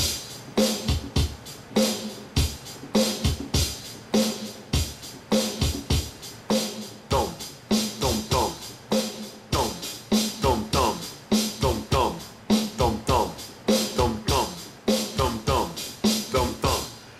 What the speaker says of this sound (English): Now they throw in the snare drum to throw a little bit of extra color in there